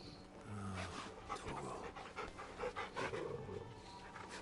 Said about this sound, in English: Pet the dog.